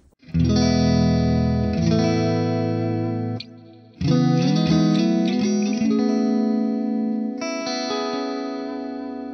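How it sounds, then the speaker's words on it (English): An electric guitar (Veritas Double Cut Portlander) through a Hotone Ampero II Stage set to a subtle ambient cloud reverb plays ringing chords that sustain and swell with a lush reverb tail, then a second chord is struck and left to decay. "a nice subtle cloud reverb, which is kind of like an ambient reverb, but I have it subtle"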